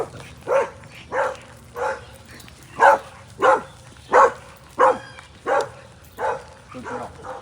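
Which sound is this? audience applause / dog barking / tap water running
dog barking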